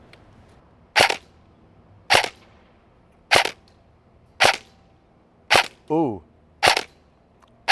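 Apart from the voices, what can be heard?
EMG Colt M16A3 airsoft AEG firing 0.20 gram BBs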